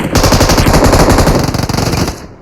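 Rapid automatic gunfire in the battle royale game BGMI, a loud, dense burst of shots firing continuously for about two seconds before cutting off, with no talking over it.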